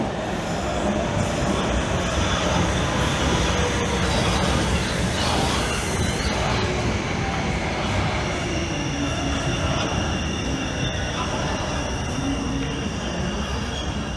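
A Brussels metro train runs steadily underground, its continuous rumble and rail noise holding loud and even throughout, with faint wheel squeal riding above the roar.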